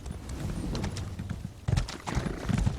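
Horse hooves clip-clop steadily in the video game Elder Scrolls Online, a close, continuous rhythmic trot with a brief whinny-like texture, growing a little louder partway through, with no talk over it.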